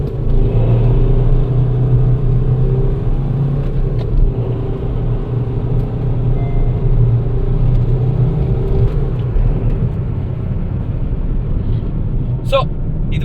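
A used Honda Amaze diesel car accelerating from 0 to 100 km/h, heard as a loud, continuous low engine rumble with road noise from inside the cabin, and a faint click near the end.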